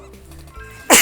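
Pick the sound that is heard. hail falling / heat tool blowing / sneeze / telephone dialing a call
sneeze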